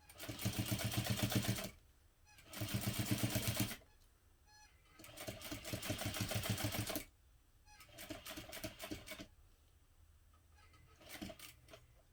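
A sewing machine stitches a tote bag side seam in three long bursts of steady mechanical whirring, with shorter, choppier runs near the end and quiet pauses between them.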